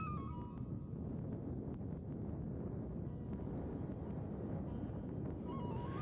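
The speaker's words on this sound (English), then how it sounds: "The only sound you can hear on the Changtang plateau is the howling of the wind." Steady, low rumbling wind on the barren Changtang plateau in Ladakh buffets the microphone without pause, a dense roar with no voices or other sounds standing out.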